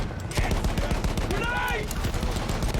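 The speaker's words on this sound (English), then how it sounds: "Take down that machine gun." Gunfire in the Battlefield 1 video game, with dense, continuous bursts of shots under a busy battle mix and faint voices throughout.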